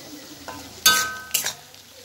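Onions frying with ginger-garlic paste in a pan, a quiet sizzle broken by two sharp spoon scrapes and clinks against the metal, close by, with no talk.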